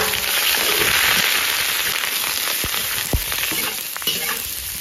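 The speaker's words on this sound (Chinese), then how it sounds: "烧油，油热，洗干净的牛腩倒进来炒" Blanched, washed beef brisket hits hot oil in a wok and is stir-fried. A loud, dense sizzle runs throughout, broken by a few sharp crackles and pops.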